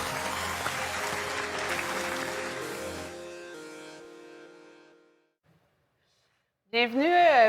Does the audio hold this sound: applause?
yes